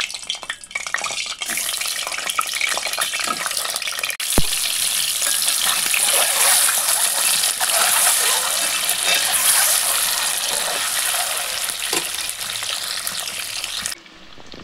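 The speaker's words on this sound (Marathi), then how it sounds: "आता आपण पहिले अंडे तळून घेऊया." Eggs fry in hot oil in a pan for egg curry, giving a loud, continuous crackling sizzle up close that swells briefly midway and then cuts off near the end.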